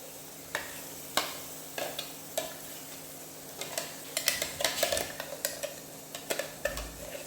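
Ground vegetable chutney goes into a hot pan and is stirred with a metal utensil. The stirring makes a rhythmic run of sharp scrapes and clinks over a soft, constant sizzle, close and fairly quiet.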